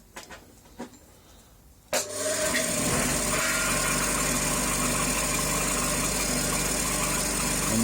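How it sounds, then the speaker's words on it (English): A bench grinder fitted with a homemade MDF sharpening wheel switches on with a sharp jolt, then spins up into a loud, steady motor hum and whine that holds unbroken for the rest of the clip. "Don't stand in front of a bench grinder when you start it up."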